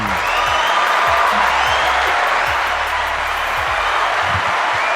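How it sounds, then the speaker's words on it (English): A crowd cheers as a sound effect dropped into a sports betting podcast: a loud, steady wall of roaring voices and whistles that holds for the full five seconds with no break. "Crowd goes wild, Jamie."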